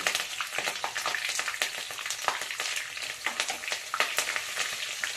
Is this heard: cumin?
yes